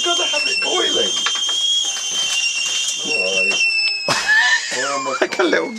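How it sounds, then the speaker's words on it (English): Kettle boiling on a boat, its whistle a loud, sustained high-pitched shriek running throughout while people talk over it. "He's oblivious to the kettle. He is. He lets it scream and scream."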